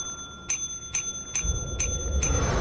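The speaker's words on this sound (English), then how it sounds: "Just keep ringing it." A bell in the video game Lethal Company is struck repeatedly, five bright metallic rings at roughly half-second intervals, each leaving a sustained ringing tone, while a low rumble of game background noise swells up underneath partway through.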